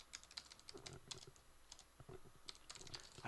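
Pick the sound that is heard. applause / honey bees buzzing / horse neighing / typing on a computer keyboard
typing on a computer keyboard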